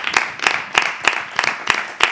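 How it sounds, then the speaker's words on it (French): A studio audience claps together in a steady rhythm, about seven loud, evenly spaced group claps in quick succession. "les gars, on applaudit pour vous parce que c'est mérité"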